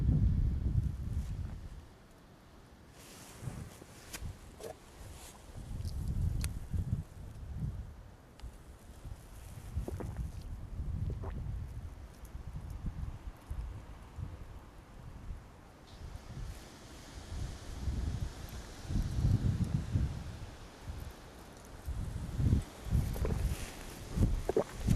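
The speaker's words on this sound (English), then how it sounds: "on a windy, cold day like today." Gusty wind on a cold day buffets the microphone on a live safari in low rumbling bursts, with faint rustling and occasional soft footsteps in between.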